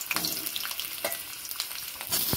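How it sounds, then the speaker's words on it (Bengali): Boiled potatoes sizzle and crackle in hot oil, with a few sharp stirring scrapes in the pan, close by and fairly quiet. "আমি এঁচড়ের আলুগুলো সেদ্ধ করে নেব, ভেজে নেব, আলুগুলো ভেজে নেব"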